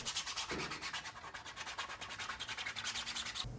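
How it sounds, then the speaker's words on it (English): Sandpaper of 120 grit rubs over a mask in steady, rapid back-and-forth strokes, a close, continuous scratchy rasp that cuts off just before the end, with no talking. "So we're starting off here with sanding down the mask. We're using 120 sandpaper."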